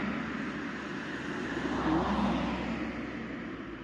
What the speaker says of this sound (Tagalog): Ayan po may sasakyan.